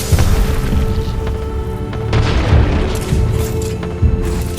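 A thermite grenade goes off in a video game with a loud, heavy boom, followed by a sustained rumbling roar and a few sharper bursts throughout.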